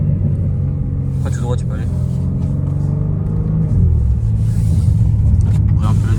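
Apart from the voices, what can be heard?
BMW M3 Competition 2021 engine sound while driving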